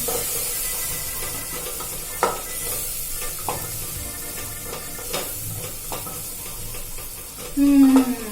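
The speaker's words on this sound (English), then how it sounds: "And again you have to fry them." Lentils with onion and turmeric powder fry in a pan, a steady close sizzle broken by occasional stirring scrapes and a louder clatter near the end.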